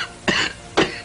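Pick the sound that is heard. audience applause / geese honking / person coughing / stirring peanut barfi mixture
person coughing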